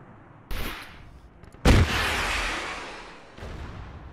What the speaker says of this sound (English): Can't just sit there when you're taking a bunch of tracer fire